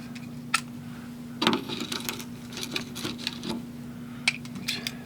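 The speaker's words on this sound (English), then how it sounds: "Get the appropriate size socket out." Metal sockets in a socket set clink and rattle as one is picked out to remove a terminal nut on a damaged trailer cord. The sharp clicks and clatter are close and come in scattered bursts with quiet gaps between them.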